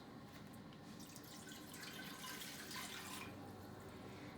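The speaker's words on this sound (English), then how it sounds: "turn my stove to kind of high medium and add the water first" Water poured into a pot on a stove for homemade playdough, a faint, steady running splash heard alone at low volume.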